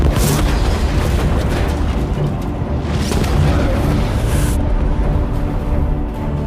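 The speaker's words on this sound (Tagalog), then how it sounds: "Sumabog ito ng malakas sa ibaba" Missiles fired from a jet explode in a film action scene, giving a loud, continuous rumbling roar with several heavy bursts and dense low-end debris noise.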